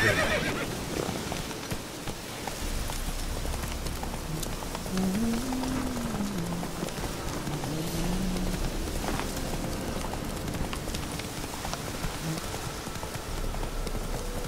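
Geralt's horse Roach in The Witcher 3 video game, hooves galloping steadily under rainfall with a clear neigh rising midway, loud and close against continuous game ambience.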